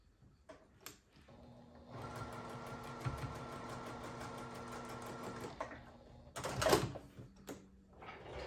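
A sewing machine stitches quilt block pieces together, running steadily for several seconds with a buzzing mechanical hum, then stopping, followed by a short burst of handling noise and a brief restart.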